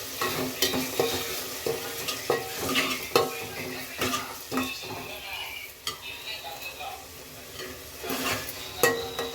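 Tomato rasam ingredients fry in a pan with a steady sizzle, while a metal spoon scrapes and clinks against the pan in quick, irregular strokes close by.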